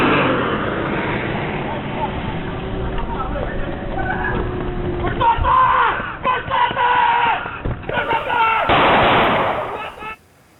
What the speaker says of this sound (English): You can hear those gunshots.